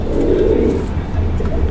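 A domestic pigeon coos close by, one deep rolling coo followed by a softer low murmur, with a faint low hum in the background.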